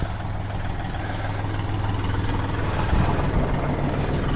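Kubota L3560 compact tractor with its diesel engine running steadily nearby, a continuous low rumble with a steady hum and no talk.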